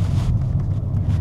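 Heavy, steady gale-force wind roars in low, continuous rumbling gusts against the microphone, with a brief hiss of air at the start, in Port Elizabeth, South Africa.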